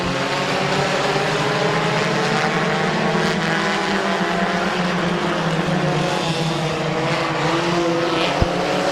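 Race cars circle Midvale Speedway in a continuous, loud, close engine roar with layered droning tones that hold steady throughout, and no voices are heard.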